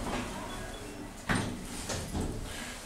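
Slow lift doors closing in a TK Maxx at Bexleyheath Broadway Shopping Centre, a steady motor hum under a sliding rumble and a soft thud as the doors meet, with a fainter second bump after.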